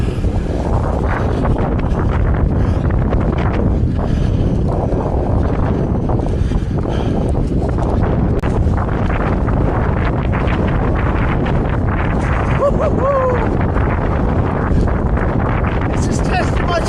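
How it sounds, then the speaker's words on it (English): Strong gusting wind roars and buffets the microphone steadily while a rider heads into it outdoors, a dense, constant rumble with no breaks. "I'm not leaning into the wind here."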